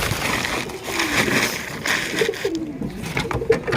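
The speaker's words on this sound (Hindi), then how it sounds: "हम लोग अपनी दूसरी पेयर वाली कबूतरों को भी खोल देते हैं" Pet pigeons let out of their coop coo in soft, low, repeated calls, close by over light rustling and wing sounds.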